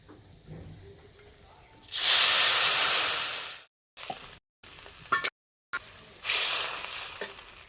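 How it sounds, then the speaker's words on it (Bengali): Water poured into a hot pan of fried vermicelli and vegetables bursts into a loud, close, steady steam hiss, which breaks off and then returns as a second long sizzle after a few small clatters. "এবার দেব জল। 1 বাটি সেমাইয়ের জন্য 2 বাটি জল দেব।"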